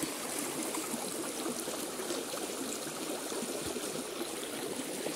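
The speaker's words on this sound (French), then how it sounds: "écoutez cette douce mélodie de ce petit ruisseau qui nous donne la vie" A small stream flows steadily, a continuous bright trickling and babbling of water with no voices.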